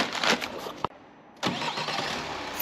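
A Peugeot/Citroen HDi diesel engine revs as the gas is pressed, a short burst of engine noise that cuts off, then rises again into a sustained rev after a brief gap.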